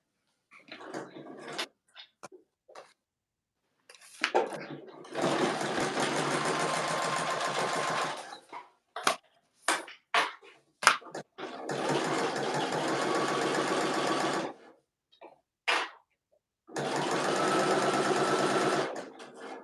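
A domestic sewing machine making an odd noise runs in several bursts of rapid stitching on a boxy bag, separated by short pauses and small clicks of handling.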